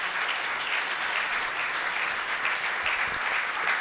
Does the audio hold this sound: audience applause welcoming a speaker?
yes